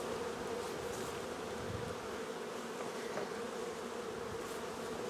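Honeybees from a nucleus colony being moved into a hive body hum in a soft, continuous drone, a faint steady buzzing of many insects close by with no talking.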